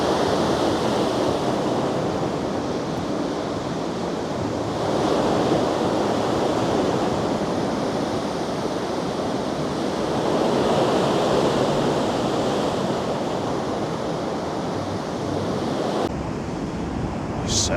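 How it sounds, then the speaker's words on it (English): Waves crash against Blackpool pier at high tide in freezing conditions, a steady, loud, broadband roar of surf and wind with no break, heard close and with no voices. "you can feel the pier sort of vibrating with the waves crashing"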